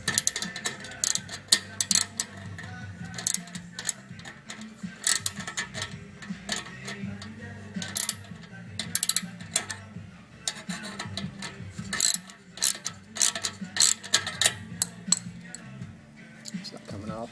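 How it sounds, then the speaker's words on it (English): A hand ratchet tightens the outer screw of a universal turbo whistle fitted to a car exhaust muffler, giving quick rows of clicking pawl ticks in irregular bursts, close and fairly quiet. "I'm going to take my ratchet. Tighten the outside one."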